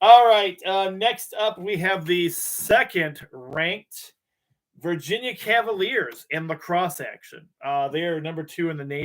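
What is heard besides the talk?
No distinct noise like a dog, phone or traffic.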